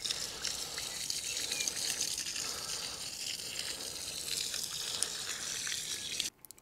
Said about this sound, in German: Und hier pumpt es jetzt das restliche Wasser raus.